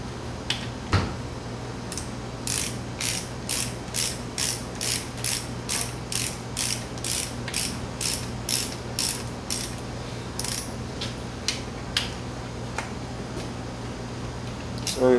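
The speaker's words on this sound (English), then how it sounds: "so let's tighten these up, and then we'll go ahead with the torque wrench" A ratchet wrench snugs bolts on an air-cooled Volkswagen transaxle in a crisscross pattern, making a steady, close run of sharp, evenly spaced clicks, with a few isolated clicks before and after.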